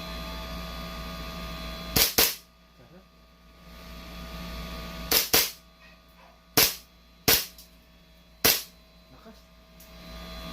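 A gun fires five sharp, loud shots at uneven intervals, with quiet gaps and faint background murmur between them.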